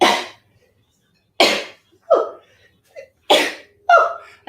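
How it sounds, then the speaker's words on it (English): Several sharp, breathy bursts come one after another during a live-streamed yoga class, closely miked and loud, with quick gasps and a voiced catch between them, like a person sneezing repeatedly. "Uh-oh, I have to sneeze."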